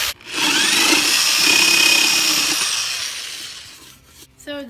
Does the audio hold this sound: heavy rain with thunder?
no